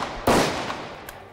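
A single blank round fired from a Glock 17 pistol on a film set: one sharp, loud report that decays into a brief echoing tail, followed by a faint second click.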